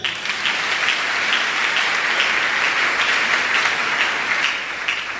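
A church congregation applauds together at a sermon, a loud, dense, sustained burst of clapping from many hands filling the space without pause.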